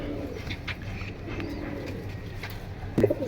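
Pigeons kept in pairs coo softly and repeatedly, low and nearby, with a few light chirps and a brief louder flutter of calls near the end.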